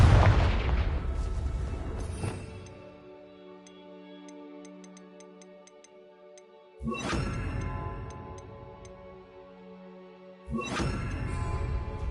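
A Confringo explosion spell cast in Hogwarts Legacy, three sharp booming blasts spaced several seconds apart, each followed by a ringing, decaying magical tail with faint ticking chimes between.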